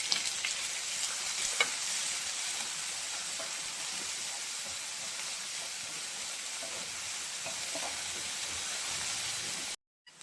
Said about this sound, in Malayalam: ഉള്ളിയും കൂടി അങ്ങോട്ട് ഇടുക. ഇത് നന്നായിട്ടൊന്ന് നമുക്ക് വഴറ്റി എടുക്കാം.